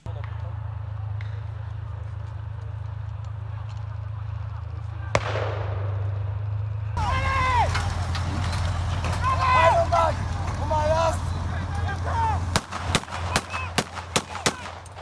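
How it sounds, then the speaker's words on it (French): Blank rounds fired and a tank during a military exercise: a steady engine rumble, then crowded voices and commotion, ending with a series of sharp, loud gunshot cracks in quick succession. "il y a quelques tirs à blanc"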